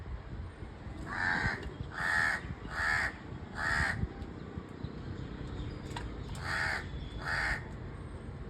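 Crows caw in repeated harsh bursts, four in a row, then a pause, then two more, fairly close over quiet outdoor background.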